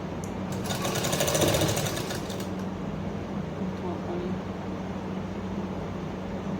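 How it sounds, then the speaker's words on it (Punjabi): A sewing machine stitches a kurta collar: a close burst of rapid, rattling stitching for about two seconds, then it stops and only a low room hum remains. "ਸਲਾਈ ਸ਼ੁਰੂ ਕਰਾਂਗੇ ਆਪਾਂ ਇਹਦੇ ਵਿਚਾਲੇ ਤੋਂ ਜਿੱਥੇ ਇਹਦੇ ਆਪਾਂ ਨੇ ਕੱਟ ਲਗਾਏ ਆ"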